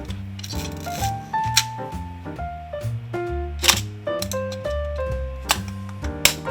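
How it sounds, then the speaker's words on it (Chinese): A Nikon FA SLR's titanium honeycomb shutter fires repeatedly with crisp mechanical clicks, each snap followed by a short whirring tone, about a dozen releases in quick succession. "我们听一下它清脆的快门声。"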